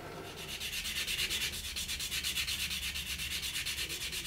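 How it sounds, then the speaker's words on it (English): An epoxy resin diorama is sanded through progressively finer sandpaper grits, giving a close, loud rubbing rasp in fast, even back-and-forth strokes that never stop, with no voices. "Now all I have to do is run through some grits up to about 2000 and then give it a polish."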